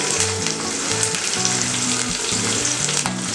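Curry leaves, onions, cumin and fenugreek sizzle loudly in hot oil for an egg masala curry, a dense close crackle with a low rhythmic tonal hum pulsing underneath and no voices.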